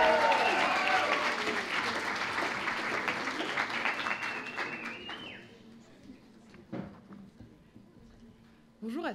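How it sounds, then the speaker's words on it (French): Applause from the audience at an eloquence contest final greets a finalist, loud and sustained at first, then thinning out and fading to scattered claps, with voices and murmurs through the room. "Je vous demande un tonnerre d'applaudissements pour Julie Le Caudron"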